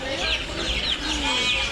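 Chickens clucking close by at a market, with busy market noise and voices throughout.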